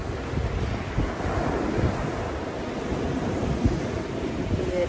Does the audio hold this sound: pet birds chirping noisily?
no